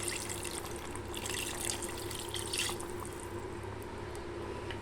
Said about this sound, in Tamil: இந்த மிக்ஸி ஜார் அலசின தண்ணி இதில் சேர்த்துக்கலாம்.